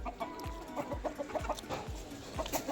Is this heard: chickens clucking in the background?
yes